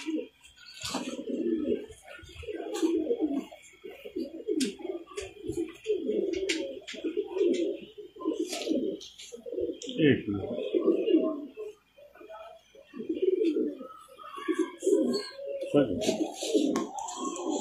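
Pigeons coo in soft, repeated low murmurs throughout, with someone talking over them and occasional bird chirps higher up.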